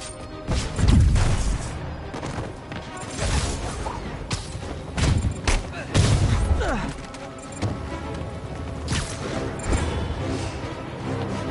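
Sniper shots and explosive impacts in the video game Marvel's Spider-Man, a busy mix of booms, crashes and whacks repeating over dense game music and effects.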